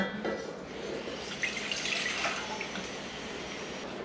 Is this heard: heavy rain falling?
no